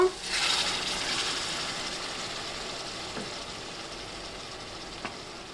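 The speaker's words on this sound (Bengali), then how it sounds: "সামান্য একটু পানি দেবো" A splash of water hits ginger-garlic spice paste frying in plenty of oil for a home-cooked duck curry, setting off a sudden loud sizzling hiss that settles into a steady fizz, with a couple of faint clicks.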